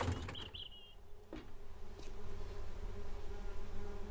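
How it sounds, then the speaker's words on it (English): Bees buzz in the survival game 7 Days to Die: a steady insect drone runs throughout, with a brief sharper whine near the start, over a low ambient hum and no talk. "I hear the bees doing something over there."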